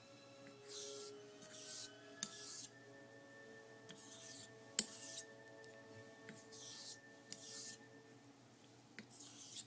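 A vintage German Bartmann straight razor is honed on a Japanese Narutaki Aka-pin natural whetstone, giving soft wet swishing strokes about every second, quiet and close, over a faint steady background hum.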